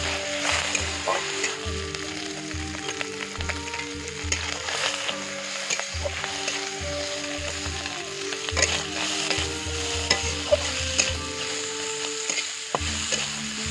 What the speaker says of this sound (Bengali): আমরুল শাক টক, চিংড়ি মাছ দিয়ে টকটক করে ভাজা করা